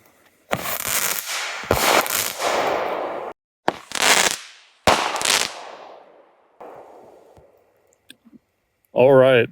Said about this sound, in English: This is the multicolor star with chrysanthemum.